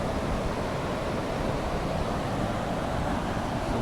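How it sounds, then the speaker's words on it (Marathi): Sea waves at white-sand Aarvi Beach on a rainy evening make a steady, full, close rushing surf that blends with wind and rain, continuous and without voices. "समुद्राचा आवाज"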